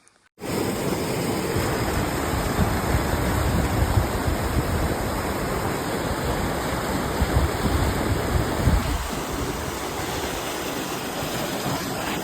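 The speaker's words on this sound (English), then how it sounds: "Water feature." Water pours steadily down a small built water feature on the Pacific Crest Trail in the Sierra, a loud, close, unbroken rushing hiss that starts abruptly and holds constant throughout.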